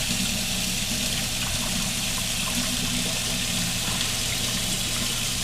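Water is poured slowly into a pot for cooking noodles, a steady, even trickling wash with a constant hiss, alone and close.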